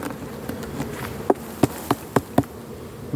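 Honeybee colony buzzing steadily during a hive inspection of the last honey super, with a few sharp knocks from frames or tools cutting through the drone.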